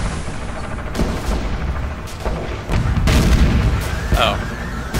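The GDI weapons factory blows up in the video game Renegade X, a run of heavy rumbling booms and crashing blasts that swells louder midway and keeps rolling.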